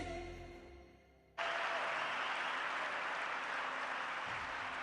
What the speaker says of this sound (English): And they politely clap.